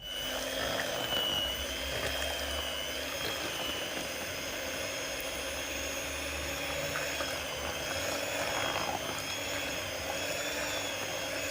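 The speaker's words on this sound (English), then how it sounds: "I'm going to use my stick blender to blend it very well" A stick blender whirs steadily through a soap mixture, a continuous close motor drone holding at an even level throughout with no talking.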